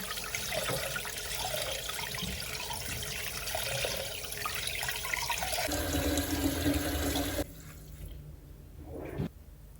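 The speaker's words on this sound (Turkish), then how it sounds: "Bir süzgece alıp sularını süzdürüyorum." Water drains through a kitchen strainer while sea bass is prepared, a steady rushing pour for about seven seconds that then cuts off, followed by a brief faint clatter.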